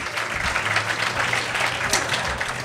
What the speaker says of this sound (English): Clap it up for Patrick